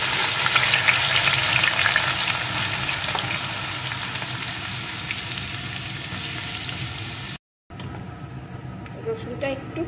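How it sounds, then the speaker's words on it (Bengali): Crushed garlic hits hot oil with whole garam masala and fries in a steady, loud, dense sizzle that cuts out briefly near the end and then carries on more softly. "এখানে বেশ খানিকটা আমি রসুনকে থেতো করে দিয়ে দিলাম"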